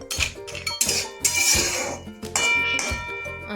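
Metal pots, lids and utensils clatter and clink in a home kitchen while a Bengali mixed vegetable curry cooks, ending with a lid set on the pot; several sharp clangs ring out in an irregular rhythm, close and fairly loud, with no talk.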